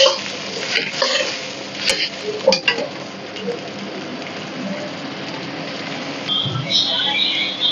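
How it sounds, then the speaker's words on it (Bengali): Stock poured into a pan of chilli paneer with soy sauce, a continuous sizzle and bubbling with occasional stirring scrapes and clinks, close and fairly loud, with voices over it. "স্টক দিয়ে দেবো।"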